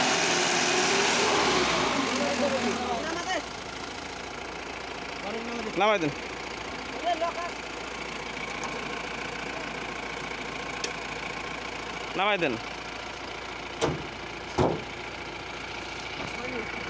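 A Mahindra Big Bolero pickup engine idles steadily with a low, even rumble. Someone speaks over it several times, and the engine sound dips slightly after the first few seconds.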